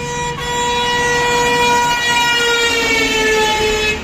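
Heavy traffic on a highway roaring past close by, with a loud sustained tonal wail like a siren or truck horn riding over the rumble of passing vehicles.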